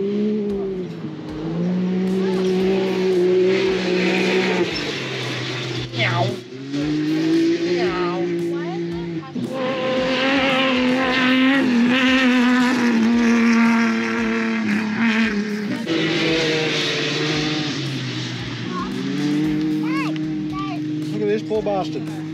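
A truck carrying a race car on its back drives by, its engine drone loud and near, shifting pitch over several long passes, with people talking over it throughout.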